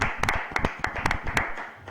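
A church congregation claps for a speaker in a series of sharp, rhythmic hand claps, close and fairly loud, with no clear cheering.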